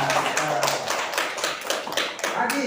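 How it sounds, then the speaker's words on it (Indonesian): Several people clap together in a classroom-style religious lesson, a roughly rhythmic run of sharp claps about five per second, close and fairly loud, with faint voices underneath. "Tepuk tangan yuk."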